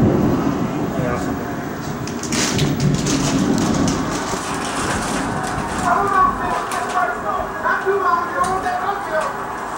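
A severe summer thunderstorm in Little Rock, South Carolina brings steady rain and low rumbling thunder, with what sounds like rain pattering on a surface nearby. People talk over it at times.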